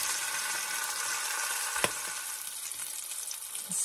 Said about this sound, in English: what we want to do is to brown this very well on all sides